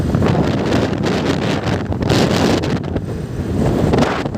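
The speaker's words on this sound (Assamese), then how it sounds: "বতাহ মাৰি আছে" Strong wind buffets the microphone in loud, continuous gusts on the Bhumraguri bridge, rising and falling in a rough rumble with no voices.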